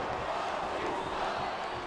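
Capacity arena crowd in WWE SmackDown vs. Raw 2008 cheering in a steady, dense roar with no breaks, and a faint voice mixed in underneath.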